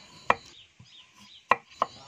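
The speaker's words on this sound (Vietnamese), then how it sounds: "Mình sẽ sắc mỏng, sau đó mình sắc lại thành sợi và mình vẫn sắc hạt lựu nha." Knife chopping carrot on a cutting board while preparing rolled rice-noodle sheets: three sharp, close knocks spaced irregularly, with a couple of fainter taps between, and no talk.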